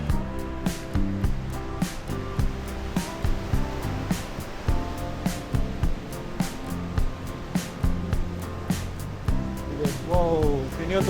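Ocean surf rolls in at Greweng beach near Jogja, a steady broadband wash of waves beneath near, continuous talking by a person walking toward the water.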